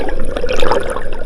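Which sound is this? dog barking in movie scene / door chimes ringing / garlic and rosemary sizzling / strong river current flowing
strong river current flowing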